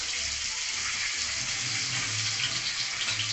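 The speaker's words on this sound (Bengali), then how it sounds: "কড়াইতে ডিম ভাজবো বলে ডিমগুলো ভাজা হোক।" Eggs frying in a wok make a dense, even hiss of hot oil that stays constant and fairly quiet from start to end, with no talking.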